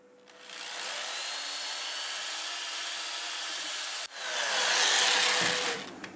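Steady abrasive sanding hiss against a spinning black locust wood turning runs continuously, breaks off abruptly for a moment, then resumes a little louder before fading.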